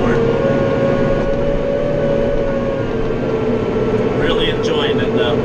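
A 100-horsepower tractor engine drones loud and steady while pulling a Glencoe 5-shank chisel plow through an early spring field, with a voice briefly heard near the end.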